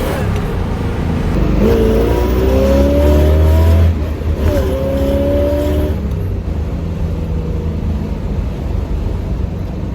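A classic car accelerates hard and shifts gears, its engine note climbing, breaking off sharply at each shift and climbing again, loud and close with no talk.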